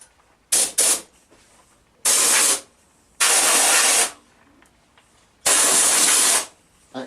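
Steam blasts clean an oil film off stripped BMW F 650 GS motorcycle parts in a workshop, four loud hissing bursts: two short quick puffs, then three longer sustained jets about a second each, separated by quiet gaps.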